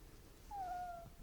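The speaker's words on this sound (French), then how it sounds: "C'est quand la maman, elle appelle ses petits." A single faint cat meow from a mother cat calling her kittens, a thin drawn-out call heard somewhat in the distance over quiet background noise.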